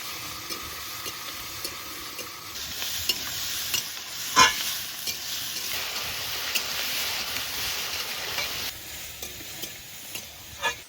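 Onion, ginger and garlic paste frying in a pan for a pointed gourd dish: a steady close sizzle, stirred now and then with scraping strokes and one sharp knock midway.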